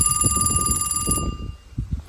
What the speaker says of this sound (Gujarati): લ્યો ફોન આવ્યો હું જાવ